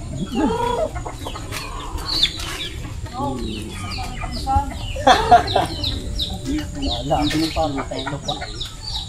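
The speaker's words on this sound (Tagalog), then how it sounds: "Ang dami ng manok." Several chickens cluck and squawk nearby in a busy, overlapping chatter, with occasional louder calls and people talking faintly underneath.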